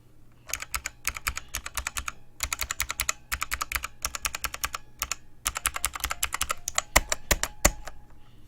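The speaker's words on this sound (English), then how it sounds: "So what you're actually hearing there is Fuhua switches." A Filco Zero mechanical keyboard with Fuhua switches typing in rapid bursts of clacking keystrokes, close and crisp, with brief pauses between runs and a heavier spacebar press near the end.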